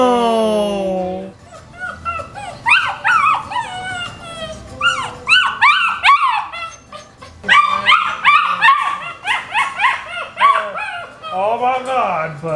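A goldendoodle puppy yips, barks and whines loudly at close range, opening with a long rising howl before a continuous stream of high, wavering cries and whimpers.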